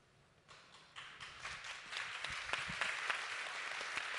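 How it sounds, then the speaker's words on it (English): Audience applause at a UN discussion on AI in healthcare, starting faint and swelling into steady, moderately distant clapping that continues to the end. "Why are we applauding?"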